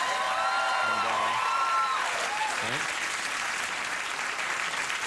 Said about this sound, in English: That was real applause for Pierre, wasn't it?